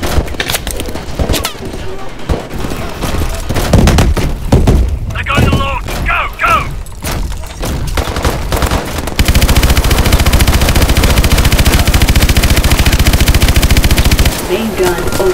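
A mech's main gun in Call of Duty: Advanced Warfare fires long, loud rapid bursts, with explosions and thuds early on, then a dense, unbroken stream of machine-gun fire under radio-style voices.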